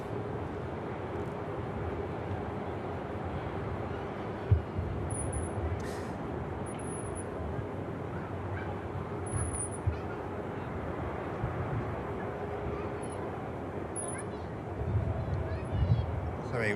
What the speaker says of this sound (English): the Ryanair taking the intersection just before the Virgin Atlantic